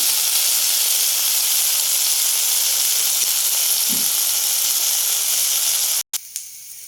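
Potato and onion sizzle steadily in hot oil in a frying pan, a loud continuous hiss with a soft bump midway and a brief dropout near the end.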